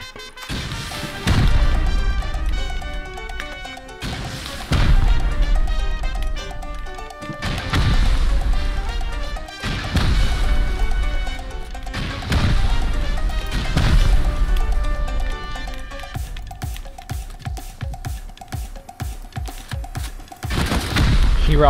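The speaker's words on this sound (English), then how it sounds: "He rockets me." Repeated heavy rocket blasts hit a base during a Rust raid, landing as loud booming crashes every few seconds with rumbling debris in between, and a voice talks over parts of the barrage.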